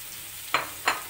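Pieces of tongkol fish hit a hot pan with oil, giving two short bursts of sizzle about a third of a second apart, close and fairly strong, each fading quickly over a quiet background.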